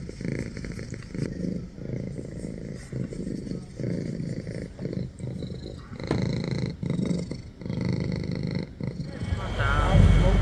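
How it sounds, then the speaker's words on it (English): A hotel cat purring close up in low rhythmic rumbles that swell and pause, with some faint background noise. "they had their own hotel cat"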